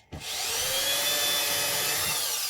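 A power drill with a thin bit bores a small pilot hole into wood, starting with a sharp bite and settling into a steady high whine that holds for about two seconds before slowing slightly.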